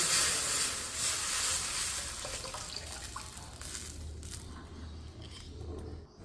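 Sizzling tempering for South Indian rasam in a hot pan, a bright crackling hiss that is loudest at first and gradually settles into a softer, steady fizz.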